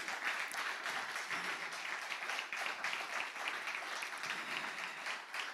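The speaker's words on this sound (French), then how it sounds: "J'aimerais qu'on acclame le Seigneur." A church congregation applauds during a Sunday worship service, steady dense clapping filling the room without pause from start to finish, with no voices standing out above it.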